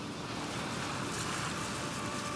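Ocean surf breaking on a beach where sea turtle hatchlings head for the water, heard as a continuous broad roar of waves with some wind and no voices.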